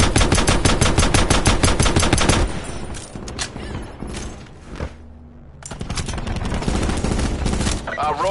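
Rapid bursts of automatic gunfire from a PlayStation 4 war game, dense and loud at first, then thinning into scattered shots and a brief lull before another sustained volley.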